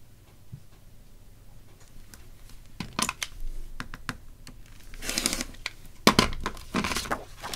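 Scissors cut paper to make a craft belly-band border, a run of quiet then sharper snipping and rustling strokes, close by and uneven in rhythm.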